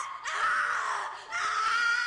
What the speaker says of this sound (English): Then a loud scream echoed through the darkness.